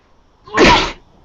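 A single short, burst-like sneeze, close and fairly loud, rising quickly and cutting off after a brief moment in an otherwise quiet room.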